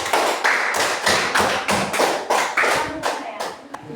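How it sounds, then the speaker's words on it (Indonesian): A classroom of students claps for a student group in a steady rhythmic pattern, about ten sharp, even bursts close by. "Kalau begitu, tepuk tangan dulu untuk kelompok"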